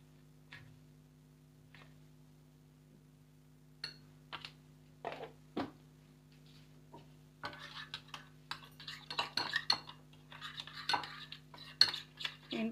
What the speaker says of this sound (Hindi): इन सब चीज़ों को आप लोग दही के अंदर मिक्स कर लें।